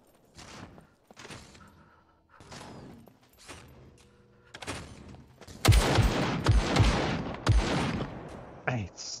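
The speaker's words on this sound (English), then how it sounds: "Wait, stop shooting at me, man." Gunfire in the survival video game SCUM: a series of loud separate shots, sparse at first and then a denser, louder burst of rapid fire, close by.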